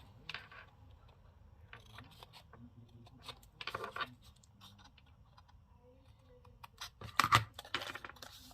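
Small paper or card being snipped with scissors to cut out a little square, a few faint clicks and rustles with one louder sharp cut near the end, close and quiet, no speech.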